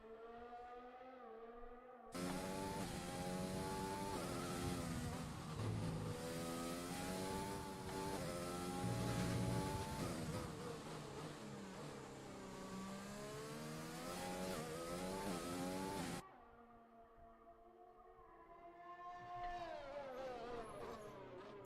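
Formula One race car engine from an F1 esports racing game at Bahrain, screaming at high revs with rising and falling gear-shift sweeps, loud and continuous, then cutting off before fainter engine sound returns.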